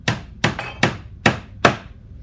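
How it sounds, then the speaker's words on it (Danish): Five sharp hammer strikes driving small nails around the edge of a glued wooden box, evenly spaced and close by, each a crisp knock with a short decay. "Så derfor skal vi sømme den med nogle små dykkere"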